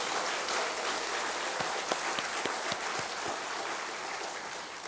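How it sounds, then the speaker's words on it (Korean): A church congregation gives sustained applause during an early-morning revival service, a steady wash of clapping with a few sharper individual claps standing out in the middle. "우리 목사님 내려가시는데 큰 축복의 박수 부탁합니다"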